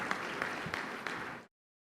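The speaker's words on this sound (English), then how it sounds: "we'd like to give an applause to all the panelists" An audience at a healthcare leadership conference claps for the panelists, a steady patter of applause that fades out abruptly.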